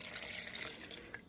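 A cup of water is poured into a Ninja blender holding soaked chiles, half a tablespoon of chicken Knorr and water, a brief quiet splashing and trickling pour close by.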